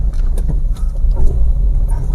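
A car creeps along in first gear through a bumper-to-bumper traffic jam. A steady, low engine rumble sits close and continuous, with faint road noise and no voices.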